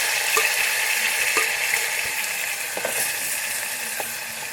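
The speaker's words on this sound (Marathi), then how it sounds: "आता ह्या तेलामध्ये आपण मसाला सोडणार आहे." Masala gravy of ginger, garlic, coriander, coconut, onion and tomato hits hot oil for chicken biryani, giving a loud, steady sizzle with a few faint metallic clicks from the pan.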